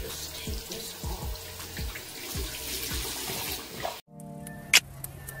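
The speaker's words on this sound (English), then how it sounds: "So I'm gonna just wet my washcloth or whatever and then just take this off." Running tap water wetting a washcloth at a sink, a steady splashing stream nearby that cuts off abruptly near the end, followed by a brief clink.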